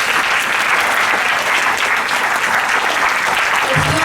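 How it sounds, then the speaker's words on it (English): An audience at a school investiture ceremony applauds loudly and steadily, a dense sustained wash of clapping close by from start to finish. "Teachers, for you also, a big round of applause."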